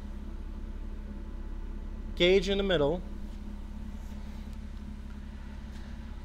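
A fully warmed-up car engine idles after throttle body cleaning, giving a steady, even low hum throughout while someone speaks briefly over it.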